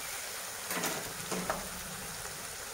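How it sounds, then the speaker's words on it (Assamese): Chopped onions frying in oil with a paste in a pan, a soft, even sizzle with a couple of faint stirring clicks, quiet and steady throughout. "পিঁয়াজখিনি একেবাৰে ভাজি ৰঙচুৱা কৰিব নালাগে"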